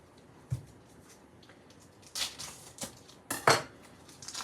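Knife cutting cheese on a board in a home kitchen, a few quiet, scattered taps and scrapes of the blade against the board, faint and close with soft background noise.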